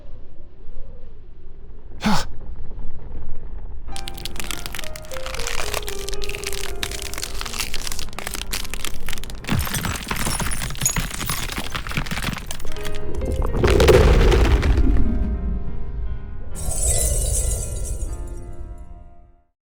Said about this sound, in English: As the glass platform begins to collapse into nothingness